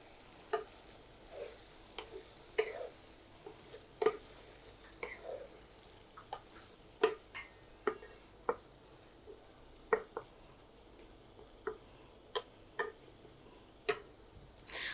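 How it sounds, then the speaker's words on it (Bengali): Washed red lentils sauté in a pan for a drumstick dal, heard as a quiet, low background hiss broken by sharp, irregular clicks and taps of a spoon against the pan, close and otherwise calm. "ডালটাকে কষিয়ে নরম করে নিতে হবে"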